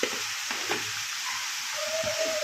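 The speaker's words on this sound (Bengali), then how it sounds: "এবারে এটাকে একটু নাড়াচাড়া করে নেব।" Ground coriander, chilli and cumin spices frying in a pan while being stirred, a steady close sizzle with a few soft scraping strokes and no talking.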